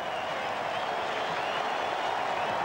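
A cricket crowd at Eden Park in a 1995 one-day international applauds a wicket, dense steady clapping and crowd roar filling the whole stretch with no voices over it.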